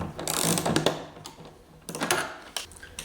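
A screwdriver drives a small screw into the metal drive collar of a 48-inch Proboat Rockstar RC catamaran, making a close, quiet run of ticking, ratcheting clicks and scrapes in two short bursts.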